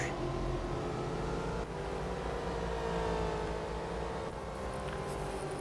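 Maserati GranTurismo MC Stradale with a 4.7-litre V8 in Real Racing 3, a steady loud engine drone with layered tonal harmonics and a slight pitch shift, continuous and alone throughout.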